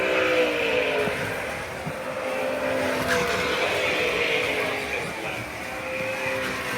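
Slot cars, a Mercedes and an Aston among them, race on their own around a home layout, giving a continuous close electric whine with squealing tones and steady buzzing.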